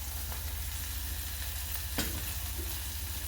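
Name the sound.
sautéing with turmeric added, stirred in pan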